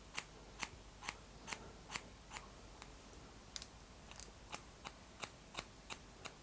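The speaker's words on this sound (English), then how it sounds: "all we're going to do is just point cut" Scissors point cutting hair make a steady series of sharp, light snips, about two per second, close to the mic and over a soft hiss of room noise.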